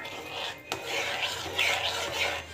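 Dal being stirred in a pot with added water, a steady scraping rasp of the spoon against the pot bottom in repeated strokes, close and moderately quiet with no talk.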